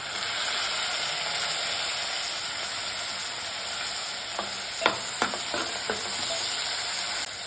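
Tomatoes fry in hot oil in a pan for a flattened rice breakfast dish, a continuous close sizzle with a few scraping stirs of a spoon against the pan partway through.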